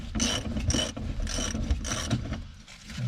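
Ratchet working on the shock absorber of a Ford Torino, close rhythmic clicking strokes in bursts with brief pauses between them, no talk.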